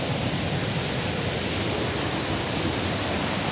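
Steady rushing water of a stream flowing through a dense forest, a continuous broadband roar that stays loud and close throughout with no voices.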